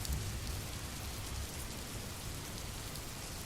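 Steady rain falls as an even, dense hiss with soft low rumbling underneath. It is fairly quiet and continuous for the whole stretch, with no voices.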